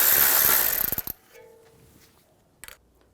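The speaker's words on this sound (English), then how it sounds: "Using a 10mm socket, take this nut off." A ratchet with a 10mm socket turns a nut off on a 2009-2013 BMW 328i xDrive, giving a short run of close clicking strokes after a burst of noise, then a faint clink later.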